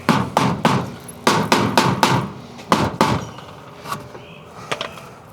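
Repeated hammer blows knocking at a stuck part inside a teardrop camper, sharp close strikes landing in quick clusters of two to four, with short pauses between bursts and fainter taps toward the end.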